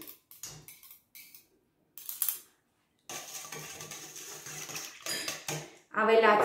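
A spoon works a milk, yeast and sugar mixture in a bowl, giving scattered close clinks and scrapes against the dish between short pauses, followed by a wetter swirling stretch and a louder final rattle.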